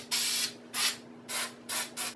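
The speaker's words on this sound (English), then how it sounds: "Now I'm going to go ahead and spray it with my snow." Artificial snow sprayed from an aerosol can onto a Christmas candle wreath: four short hissing bursts with brief pauses between them, close and fairly loud, over a faint steady hum.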